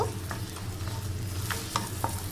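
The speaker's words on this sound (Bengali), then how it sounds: "হালকা একটু নাড়াচাড়া করে নিব" Chicken soup ingredients seasoned with salt and lemon are stirred in a pot with a spoon, giving soft scraping strokes over a low, steady hum and faint sizzle.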